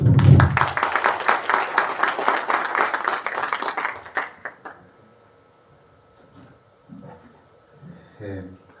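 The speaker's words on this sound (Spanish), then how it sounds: "para quien pido un fuerte aplauso" An audience at a seminar applauds to welcome a foundation president, several seconds of brisk clapping that stops abruptly, followed by quiet room sounds and a few faint voices.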